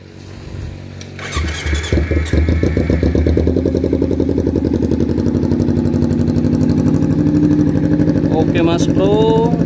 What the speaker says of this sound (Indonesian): tes sound dulu untuk Kawasaki Ninja FI 2 silinder